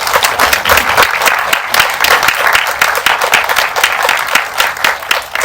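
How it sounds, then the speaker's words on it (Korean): Applause from an audience at a post-screening film talk, greeting a guest film critic: dense, steady clapping throughout, fairly close and loud, with no talk over it. "박수 한번 드리겠습니다."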